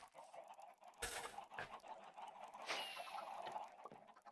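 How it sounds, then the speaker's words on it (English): Minecraft chickens crowded inside a player's shop, giving several clucks and squawks in quick irregular bursts, close and fairly clear against a quiet background, with no talking. "someone filled my shop with chickens."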